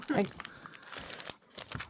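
A crinkly foil Spider-Man Magic: The Gathering collector booster pack being torn open, brief crumpling and tearing rustles close up, with people talking.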